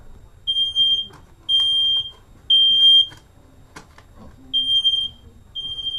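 A household smoke detector chirps in a steady pattern of loud, piercing electronic beeps, five bursts with short gaps, in an otherwise quiet room with a few faint knocks between.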